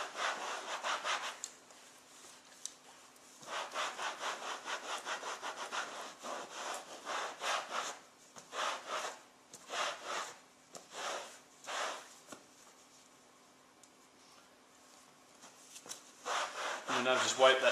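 Leather upholstery being scrubbed with an alcohol cleaner to lift grease and sweat buildup, rhythmic close rubbing strokes in bursts with pauses between them.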